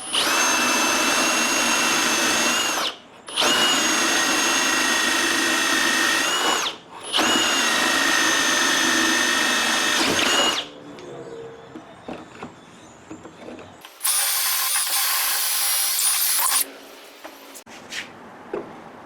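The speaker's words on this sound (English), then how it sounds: "So I'm going to pre-drill these holes at a 1/2 inch." A power drill whines loudly in three long bursts with brief pauses while pre-drilling half-inch holes in a wooden Windsor chair seat, followed by quieter rattling and a final shorter high-pitched run, close by.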